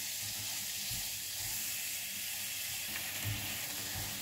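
Finely chopped onions sauté in hot oil, a steady, fairly quiet sizzle and hiss with faint stirring bumps now and then and no voices.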